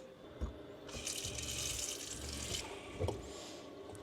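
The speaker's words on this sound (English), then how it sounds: "We're gonna go dump some more water on it." Water splashes and hisses as it is dumped onto a smouldering campfire at a remote Utah camp, a steady pour lasting a couple of seconds with a few thuds, close and fairly quiet.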